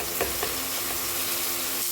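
Fish frying in a pan with spices, a steady loud sizzle with faint spattering crackles and a couple of soft knocks near the start.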